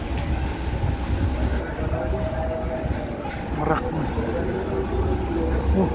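A passenger train on the Rangkas to Merak line in western Java rolls along with a steady low rumble and rattle of carriages, while voices talk over the noise.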